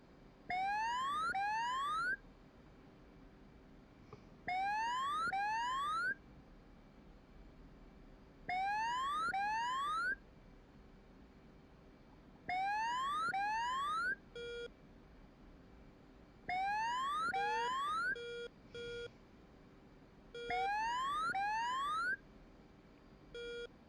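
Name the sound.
alarm sounding in the DCS flight simulator video game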